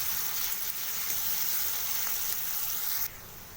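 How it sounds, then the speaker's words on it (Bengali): Onions frying in a pan until brown, a steady close sizzle that runs evenly throughout, then drops slightly quieter near the end, with no voices. "পেঁয়াজগুলো দিয়ে দিয়েছি এবার ভালো করে নাড়িয়ে নেব আর বাদামি বাদামি করে ভেজে নেব"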